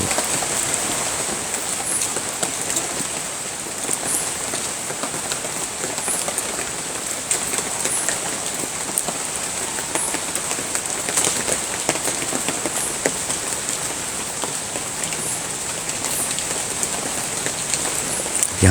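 Steady rain pours onto trees near a dam, a dense, even hiss of drops pattering on leaves with occasional sharper drips, continuous and close throughout with no talking.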